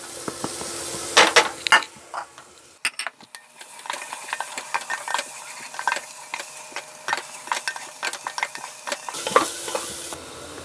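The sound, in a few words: sautéing onion with crushed garlic and ginger in a pan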